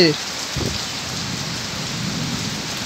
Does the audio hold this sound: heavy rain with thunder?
yes